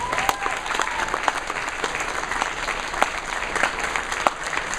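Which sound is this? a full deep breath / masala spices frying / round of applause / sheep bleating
round of applause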